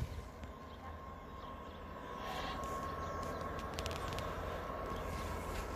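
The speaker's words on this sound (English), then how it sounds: "So our sand train's now coming." A Class 66 freight locomotive hauling a sand train rolls through a station platform area, a steady low rumble and rail noise building slightly in loudness as it approaches and gathers speed.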